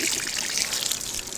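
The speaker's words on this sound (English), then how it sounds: "So I water these typically in the evening." Water trickles and pours steadily onto plants during an evening watering, a soft, continuous splashing stream heard close up with no speech.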